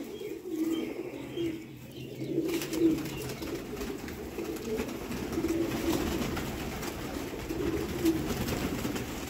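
Pigeons cooing repeatedly at a breeder's loft, soft low hooting calls recurring throughout against a steady background hum, with occasional faint chirps.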